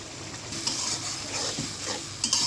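Spices sizzling and being stirred in a pan for a potato, eggplant and rohu fish curry, with a steady hiss and scraping strokes of the spoon at close range and no talking.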